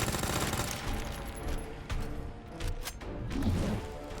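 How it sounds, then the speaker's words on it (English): Rapid submachine-gun bursts in the Resident Evil 2 remake, repeated sharp fire layered over steady game music and background effects at a fairly constant level. "SMG to the shoulder eye."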